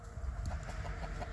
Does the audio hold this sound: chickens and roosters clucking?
yes